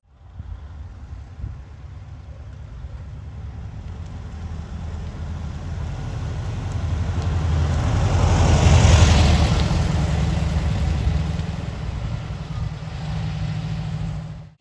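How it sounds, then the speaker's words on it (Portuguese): A Chamonix 356 Porsche replica engine turns over with the ignition key and settles into a steady low idle, a close, continuous rumble that swells in the middle before easing back. "eu girei a chave da ignição, né? E já teve aqui o som da injeção, que é um som bem conhecido"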